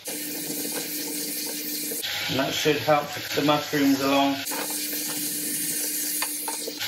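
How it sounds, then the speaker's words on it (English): Steady sizzling from a hot pan being deglazed with water runs throughout, with a voice speaking briefly over it in the middle. "Just deglazing the pan with a little bit of water,"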